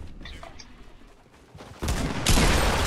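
Gunfire in an online shooter video game, quiet at first, then a loud sustained burst of rapid shots that grows heavier toward the end.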